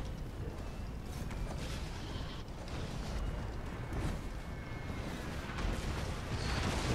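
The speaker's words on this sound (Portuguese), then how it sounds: "Estão tomando vários tiros dos bombardeiros aí agora." Bombard artillery fires during a Total War: Warhammer 2 battle as a dense, constant rumble of distant booms, creaks and clanks with no talk over it.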